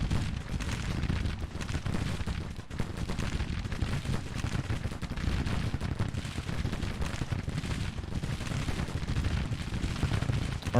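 Civil War musket volleys from rebel regiments roar in a Grand Tactician battle, a dense and unbroken rattle of gunfire mixed with heavier booms that stays loud and steady throughout.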